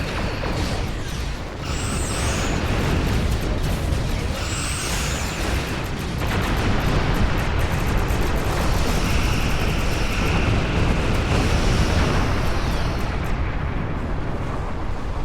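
Star Trek Online space battle with a steady, dense roar of weapons fire and explosions, loud and continuous throughout, with a few sharp zapping tones of torpedo and phaser shots near the start.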